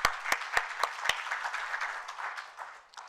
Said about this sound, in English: Colleagues, let's give him a round of applause.